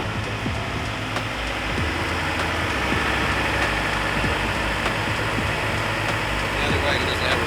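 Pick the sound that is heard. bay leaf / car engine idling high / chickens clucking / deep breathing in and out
car engine idling high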